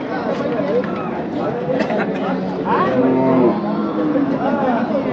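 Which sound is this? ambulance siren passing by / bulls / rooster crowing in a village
bulls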